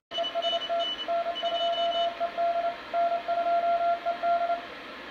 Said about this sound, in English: So here's a station we're picking up on CW.